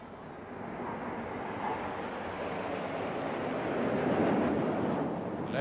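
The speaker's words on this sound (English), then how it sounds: "9 Tornado F-2 fighters from RAF Coningsby in Lincolnshire overfly Horse Guards" A steady, broad roar of nine Tornado F-2 fighter jets in formation overhead at about 1,000 feet builds slowly and stays loud throughout, with no voices.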